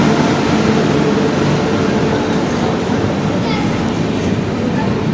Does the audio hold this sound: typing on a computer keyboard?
no